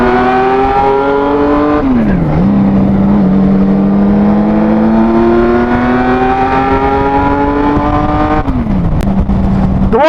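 A Kawasaki Z1300 six-cylinder motorcycle engine runs loud and close, revving up in two long smooth climbs that each drop back before rising again, with no talking.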